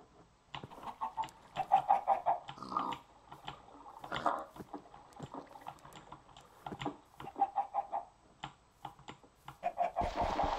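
Chickens cluck and squawk in a busy, irregular stream of calls, some close and loud, with brief flurries of movement between them and no talk.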